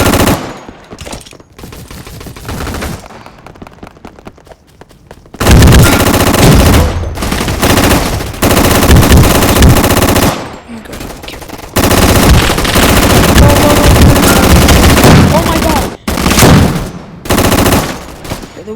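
Gunfire in a gun fight video game: loud sustained bursts of automatic fire with short pauses between them, near and dense.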